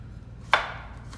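A knife chops vegetables for spring rolls with a single sharp, close thud on the board, the stroke standing out against quiet kitchen background.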